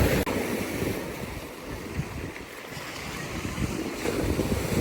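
On a rough sea, wind rushes and waves wash in a continuous broadband roar, fairly steady, with gusts buffeting the microphone and no voices.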